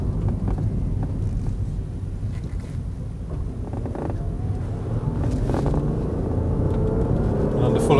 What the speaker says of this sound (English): Under heavy braking.